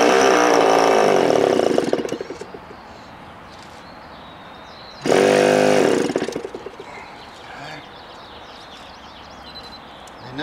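The nitro engine of a Top Flight P51D Mustang model airplane, started for the first time in eight years, fires in two short loud buzzing bursts, each sputtering out to near silence.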